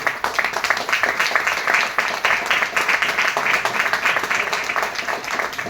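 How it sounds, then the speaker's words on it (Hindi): A crowd claps loudly and continuously for first-time attendees brought on stage at a motivational business seminar, a sustained even roar of many hands with little talk. "जोरदार तालियां होनी चाहिए।"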